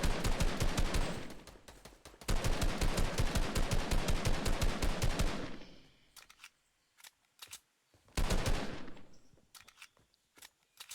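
Rapid automatic gunfire in the Fortnite video game, long bursts of dense shots followed by scattered single shots and short pauses, then another sustained burst and a few final pops.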